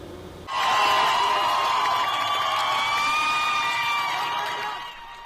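A protest crowd in Iran breaks into loud, sustained cheering and whooping as a woman cuts her hair, bursting in suddenly and holding steady before easing off.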